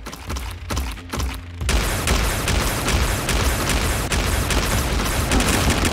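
Rapid laser fire in the video game Galaxy Champions TV on Nintendo Switch, a dense, loud barrage of repeated blasts that starts in short bursts and then becomes a continuous volley.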